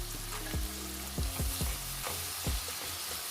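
Ginger paste frying in a pan, a steady close sizzle broken by a few short stirring scrapes, with no one talking.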